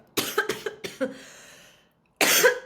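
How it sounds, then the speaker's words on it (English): Several harsh coughs in a rapid burst, close and loud, followed by a raspy breath, a pause, then another cough. "I literally am gagging and coughing and it's like a real thing that's happening in my system right now"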